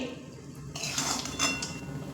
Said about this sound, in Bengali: দিয়ে হালকা নাড়িয়ে